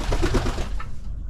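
Pigeons coo softly at a new checkered breeding box, low burbling calls with some wing flutter, close and brief before fading out.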